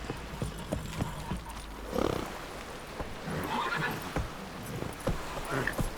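Horse in The Witcher 3 whinnying twice amid a steady clip-clop of hooves, moderately close, with faint game ambience underneath.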